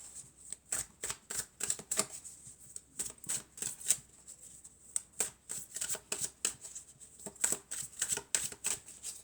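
Tarot cards are shuffled and cut by hand in a quiet room, a close run of quick riffling flicks and taps in uneven bursts, with no talking.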